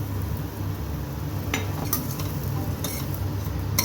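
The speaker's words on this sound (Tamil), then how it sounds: "அதுலேயே அந்த நெய் கூடவே நம்ம ஹாஃப் கப் கோதுமை ரவை சேர்த்துக்கிறேன்" Wheat semolina frying in ghee for godhumai rava payasam, with a constant close sizzle and a few sharp clinks of a spoon against the pan as it is stirred.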